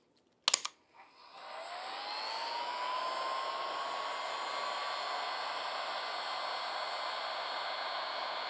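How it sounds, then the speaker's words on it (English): An electric fan switches on after a couple of sharp clicks and spins up to a loud, steady whirring roar with a rising tone that settles and holds. "Sorry if this fan is loud."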